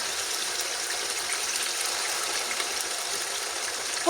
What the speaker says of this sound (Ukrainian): отак от хай смажиться.